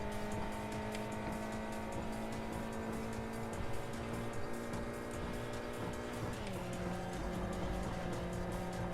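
A race car drives in Import Tuner Challenge, its engine droning steadily with a sustained tonal whine that drops in pitch near the end as it shifts, under continuous tire and road noise.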